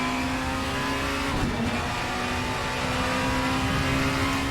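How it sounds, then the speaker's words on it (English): Front-wheel-drive race car engine from the VRC mod in Assetto Corsa, a steady high-revving drone with a strong sustained tone that briefly dips and returns, loud and continuous without speech. "You really get a great sense of speed with these cars due to the engine note and the engine sound."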